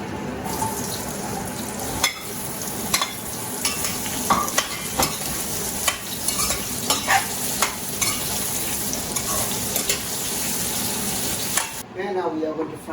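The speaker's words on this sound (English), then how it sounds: "Now we are going to add some oil and half fry the potatoes" Potatoes and carrots half-frying in oil in a pan for a mutton stew, giving a continuous loud sizzle with stirring clatter and scraping throughout, then a brief break near the end.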